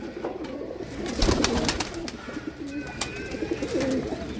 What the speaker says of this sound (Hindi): बहुत तगड़ा कबूतर है